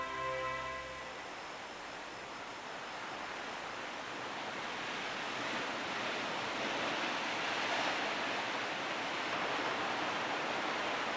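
Sea waves pounding the rocky coast at Land's End in Cornwall, a broad continuous roar of surf that swells gradually louder, heard alone after a brief musical tone at the start.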